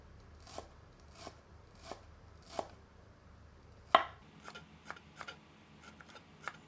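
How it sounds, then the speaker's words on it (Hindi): Green coriander stems are finely chopped with a knife on a board, about a dozen crisp, separate chops at an uneven pace, fairly quiet and close, with no speech. "थोड़ी मात्रा में हरी धनिया के तनों को भी एकदम बारीक काट लेते हैं।"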